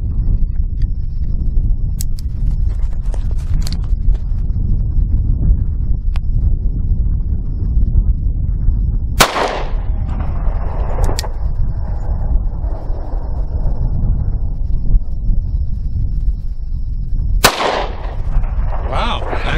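A Bearman 9mm derringer pistol fires outdoors: two sharp, loud gunshots about eight seconds apart, each with a short ringing decay, over steady wind and background rumble.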